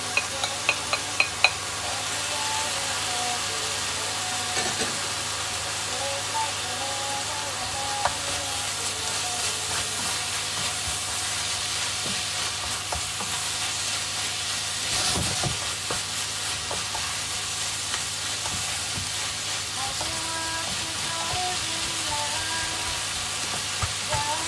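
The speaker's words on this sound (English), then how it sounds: "so the chicken's just cooking nicely" Small, finely cut pieces of chicken sizzle and crackle steadily in a hot pan while being stirred, a continuous close frying hiss with occasional scrapes and no talking.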